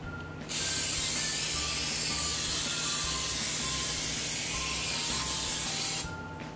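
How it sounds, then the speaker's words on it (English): A steady, loud hiss of aerosol cooking spray onto a cookie sheet runs continuously for about five seconds, close up, then cuts off. "You gotta spray the cookie sheet like this"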